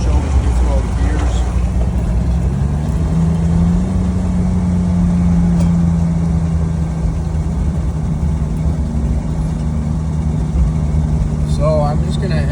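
A 1991 Jeep Wrangler YJ Renegade with a 4.0 engine and manual gearbox drives through the gears, giving a loud, steady engine drone with rising revs and shift changes heard from inside the cab.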